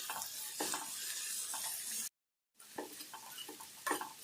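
Spoon stirring a potato bonda filling with turmeric, salt and spices in a pan: soft, continuous scraping and mixing with light sizzle, broken by a brief silent gap midway, fairly quiet.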